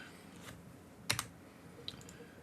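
Computer keyboard keys struck in a quick pair of sharp clicks near the middle, then a fainter tap, against a quiet room background.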